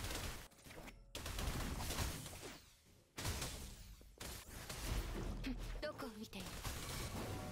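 Yinlin's weapon fires in rapid bursts of gunfire in the video game Wuthering Waves, with whooshing effects between volleys and a person talking over the action.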